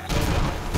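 Rapid gunfire in Borderlands 4, a loud dense burst of overlapping shots with booming impacts, close and sustained for under a second.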